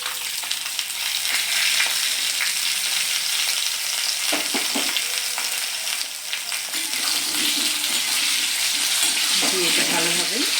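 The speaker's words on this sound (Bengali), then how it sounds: "এবার আমি এর মধ্যে স্লাইস করে কেটে রাখা আলুগুলো দিয়ে দিচ্ছি।" Sliced potatoes fry in a hot pan with steady, loud sizzling that is close and continuous, broken by occasional stirring clinks and knocks, with faint voice traces in the background.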